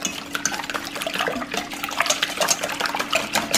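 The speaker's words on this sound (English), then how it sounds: "Whisk it pretty vigorously." Eggs and milk whisked vigorously in a bowl for a Dutch baby pancake batter, a fast, steady clatter of wire against the bowl with sloshing liquid, close and continuous with no talk.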